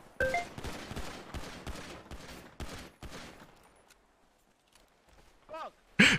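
Video game gunfire in a first-person shooter, with rapid bursts of shots over the first three seconds, then quieter scattered sounds and a loud final shot, close, with a voice talking partway through.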